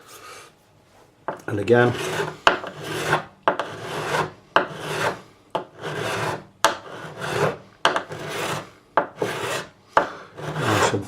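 A metal file rasps across the frets of a Jim Harley GJA ED4C electro-acoustic guitar during a refret, repeated close stroke after stroke in an even rhythm, with a brief spoken phrase near the start.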